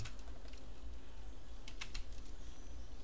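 Someone types on a computer keyboard: soft, scattered keystrokes, with a quick cluster of clicks near the middle, heard close over a low background hum.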